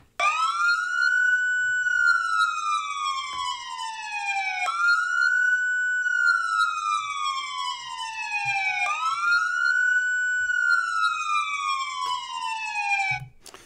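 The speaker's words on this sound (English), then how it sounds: "no matter where you're standing, whether you're standing in front of the vehicle or behind the vehicle, the siren sounds the same" A stationary police car siren wails in long, loud sweeps that rise and fall about every four seconds, heard alone and steady throughout.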